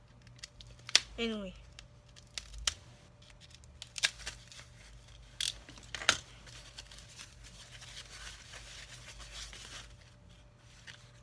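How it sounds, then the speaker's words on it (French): A utility knife slicing open a cardboard subscription box: scattered close cuts, scrapes and tape rips with sharp clicks, under occasional quiet French speech. "Notre meilleur ami, le cutter."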